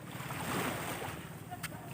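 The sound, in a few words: sea waves at the beach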